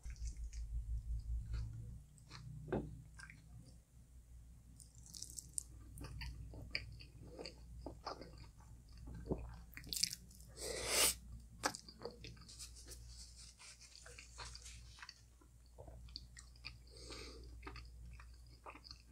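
Close, quiet chewing and biting of creamy, spicy fire alfredo and KFC chicken nuggets. Soft, wet mouth sounds are broken by occasional crunchy bites, with no talking.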